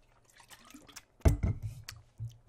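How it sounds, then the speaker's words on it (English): A person drinks water during a gaming session, with quiet liquid and swallowing sounds followed by a louder burst of gulps and sloshing, close to the microphone. "Gotta drink my water."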